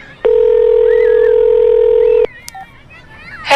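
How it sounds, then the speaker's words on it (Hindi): A mobile phone dial tone or keypad beep sounds steadily for about two seconds, then cuts off, followed by a few faint short blips and a brief burst at the end. "अथर्व ने डायल किया।"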